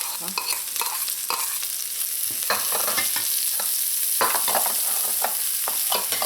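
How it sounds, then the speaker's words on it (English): Seasonings with thyme and parsley sizzle steadily in a pan while being mixed and sautéed, with repeated sharp scrapes and clinks of a spoon stirring through; no talking. "Mix everything and let this continue to saute again in here"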